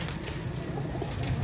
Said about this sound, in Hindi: 10 नंबर टैडी कबूतर जौन सिरे दुबई वाले